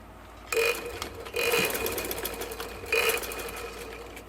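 A sewing machine stitches a kurta in three short bursts of whirring with quiet pauses between them. It sounds close and no one talks.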